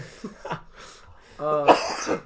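A person coughs several times in quick bursts, with some harsh throat-clearing and a raspy voiced sound near the end.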